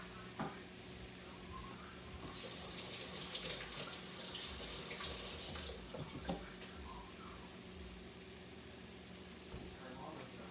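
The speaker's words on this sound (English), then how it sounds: "Wash my hands" Hands washed under a running kitchen tap, a steady hiss of water for about three seconds with a few clicks and clatters before and after, faint and alone.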